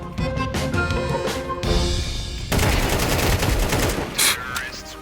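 Gunfire in the video game Counter-Strike 2, rapid bursts of automatic shots and single cracks, loud and close, with some game sounds between volleys.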